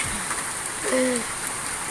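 Rain falling steadily, a dense even hiss of drops on surfaces close by, with a brief low bird coo in the middle.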